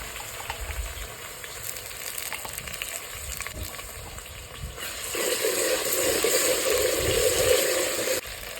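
Chillies and onions frying in a pan for a village-style merugu fish tamarind-leaf curry, a steady close sizzle that swells louder as the ingredients hit the hot oil, with no talking.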